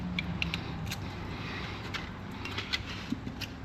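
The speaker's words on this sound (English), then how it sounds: "They may hear some noise as it's deleting itself, hitting the rotor and stuff" Faint scraping and creaking with intermittent metallic clicks and rubs, irregular and fairly quiet, as a Toyota RAV4 brake backing plate rubs against the spinning rotor after a ball joint replacement.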